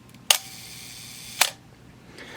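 A Minolta SR-T 101 35mm film SLR with a 50mm f/1.4 lens fires its shutter at a one-second setting: a crisp mechanical click, then a second click about a second later as the shutter closes, clear and close in a quiet room.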